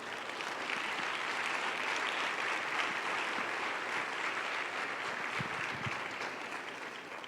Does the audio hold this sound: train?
no